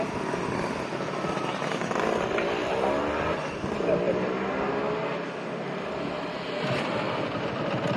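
Two-stroke engine of a 32-year-old Suzuki RGV250 VJ22 motorcycle revving up close, a busy rasping drone that rises and falls across several seconds with no pause, while someone talks faintly over it.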